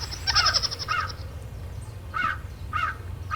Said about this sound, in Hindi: कौवा है